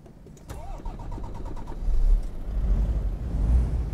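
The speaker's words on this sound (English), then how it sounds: "let's start up the engine and let's listen." A DAF XF 105 truck engine starting in American Truck Simulator, with a few clicks and a cranking starter whine followed by a deep diesel rumble that catches and settles into a loud, steady idle.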